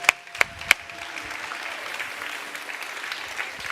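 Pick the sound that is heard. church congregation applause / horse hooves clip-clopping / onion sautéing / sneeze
church congregation applause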